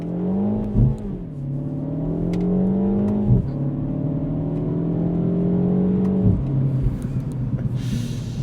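A 2025 MINI Cooper JCW with 230 horsepower accelerates in manual go-kart mode, its engine note rising in pitch through three gears with quick paddle-shift breaks between them, heard from inside the cabin.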